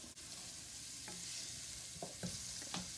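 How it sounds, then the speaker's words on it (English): Celery and other vegetables sautéing in a soup pot for pasta fagioli, a quiet steady sizzle with a few light stirring scrapes near the end, no speech. "you're going to add your celery. Stir that around."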